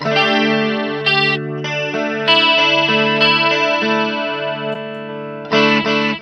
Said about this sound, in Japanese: こういったり、コーラス。